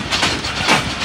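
Malkwal Express passenger train running on track between Malkwal and Pind Dadan Khan, a loud close rumble with a rhythmic wheel clatter swelling twice in one short burst.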